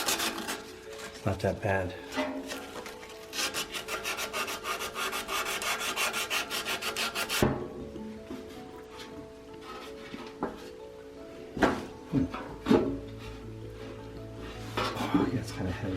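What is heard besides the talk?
sanding rust off a blower motor shaft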